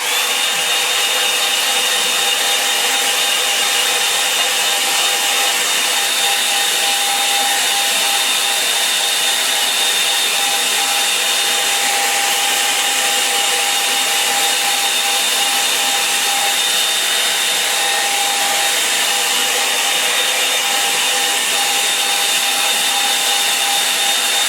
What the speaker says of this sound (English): I'll give this a dry with the hairdryer.